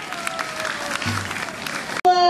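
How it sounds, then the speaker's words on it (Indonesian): A crowd at a National Children's Day opening event at FIB UI claps for Kak Dewi. The clapping is moderate and mixed with background voices, and it breaks off abruptly near the end as a tone sounds. "Boleh kasih tepuk tangan ya dong untuk Kak Dewi."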